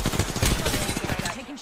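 Gunfire from an Apex Legends match, a dense run of rapid shots mixed with game sounds and a voice talking over it, ending with a short tonal pulsing.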